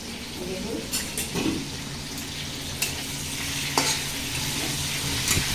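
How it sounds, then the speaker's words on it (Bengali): Pointed gourds (potol) frying in a pan give a steady sizzle with occasional stirring clatter and scrapes, close and moderately loud, under faint background noise. "পটলগুলো সুন্দর করে ভেজে দিতে হবে"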